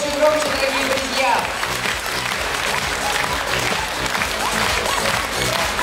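An audience at a 2022 year-end concert applauds, sustained and loud, clapping steadily with little variation over the whole stretch, and a voice talks over it.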